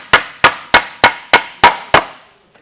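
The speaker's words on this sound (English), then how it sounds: "let's go ahead and go over to tap this out just a little bit" A hammer taps sheet metal seven times at a steady, even pace, each blow a sharp, close metallic strike with a short ringing decay, followed by quiet.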